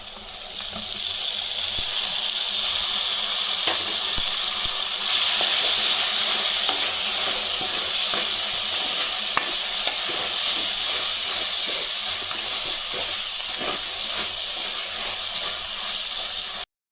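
Onions and tomatoes frying in a pan for a spicy taro-root gravy, a dense steady sizzle with bubbling crackle and occasional stirring scrapes, close and even throughout with no voices.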